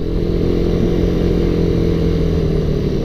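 A motorcycle engine drones steadily under heavy throttle on a city road at night, a loud close hum that holds constant for a few seconds with no talk.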